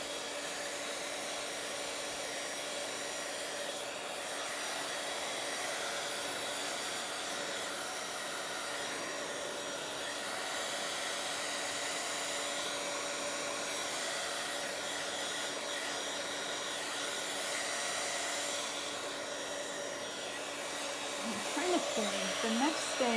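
A hair dryer blows steadily on a damp Bible journaling page, a loud, even, close-up whoosh that runs unbroken for the whole stretch before a brief rustle near the end.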